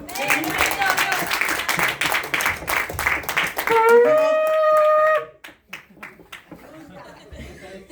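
Church congregation clapping in praise to the Lord, a rhythmic burst of hands mixed with voices for several seconds, then giving way to a sustained sung or called tone and quieter scattered sounds.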